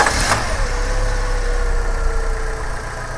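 Car engine cranking briefly and then settling into a steady idle during a battery test, with a low rumble and a faint whine that slowly drops in pitch, close and continuous.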